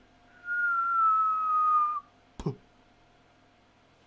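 A person whistles one long, slightly falling tone, imitating a whistling noise, close and clear, followed by a brief thump.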